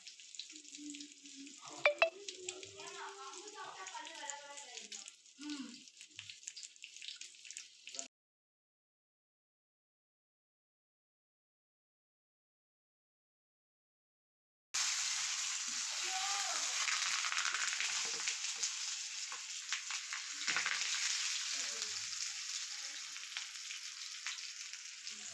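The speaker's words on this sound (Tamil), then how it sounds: "தேவையான அளவுக்கு எண்ணெய் அப்பப்போ ஊற்றிட்டு மீனை புரட்டி போட்டுக்கிட்டே இருந்தாங்க" Rock fish (paarai meen) fry in hot oil in a pan, giving a steady crackling sizzle. The sizzle starts under faint background sounds, cuts out for several seconds, then returns louder and continuous.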